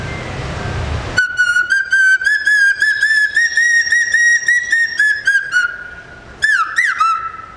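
A person whistles a long run of bird-call imitations: rapid repeated bright chirps and trills, loud and close, then a pause before a final burst of sliding, swooping whistles.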